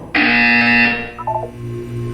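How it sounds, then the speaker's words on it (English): A loud electronic buzzer from the video game Portal 2 cuts in abruptly and holds a harsh, steady tone for about a second before fading, followed by softer, lower hum and faint beeps. "When you hear the buzzer, look down at the floor."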